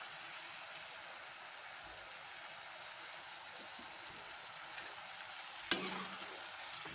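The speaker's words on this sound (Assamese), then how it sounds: "হালধি দি লাহে লাহে লৰাই থাকিম।" Chicken frying with turmeric in a pan gives a faint, steady hiss throughout, with one sharp clink of the spoon near the end.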